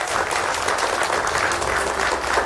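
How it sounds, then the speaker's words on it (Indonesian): Studio audience applause at a televised evening talk show with university students present, a full steady burst of clapping filling the room, close and continuous with little else over it. "Tepuk tangannya boleh."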